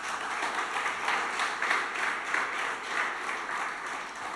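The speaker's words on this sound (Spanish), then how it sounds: "¿Por qué no le das un aplauso al Señor?" A church congregation applauds during a Spanish-language sermon, a steady, moderately loud patter of many hands clapping together with a slight rhythmic pulse.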